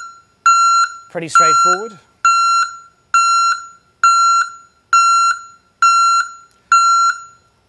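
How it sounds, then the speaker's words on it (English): A Whelen 97-decibel electronic vehicle back-up alarm sounds a loud, steady series of evenly spaced sharp beeps, about eight in a row, while someone speaks briefly over the early beeps. "Whelen's 97 decibel backup alarm"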